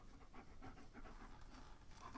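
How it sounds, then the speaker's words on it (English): A dog pants steadily and quickly in fast, breathy puffs, close and faint, with no talk over it. "The only show where you can hear a dog panting for the first 5 seconds."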